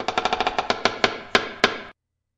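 Door sound processed with a medium-room reverb effect in Audacity, a run of rapid knocking or rattling hits that slow and spread out, each with a short reverberant tail, ending abruptly into silence.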